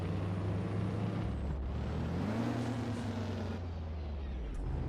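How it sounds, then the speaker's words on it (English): Detroit 8V92 truck engine in American Truck Simulator, a loud, steady drone with a rising pitch sweep midway as the engine revs up, continuous and close with no talk over it. "everybody knows that the 8V92 was an extremely loud screaming engine"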